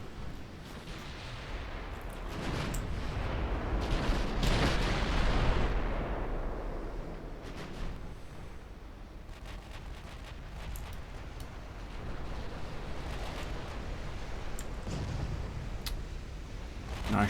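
Naval guns fire in a warship video game set in a French dreadnought campaign, with heavy booming blasts and rumbling explosions building to a loud peak and then settling into a continuous rolling barrage.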